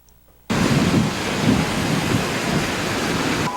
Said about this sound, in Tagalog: ganito kalakas ang ulan at hangin sa Baguio City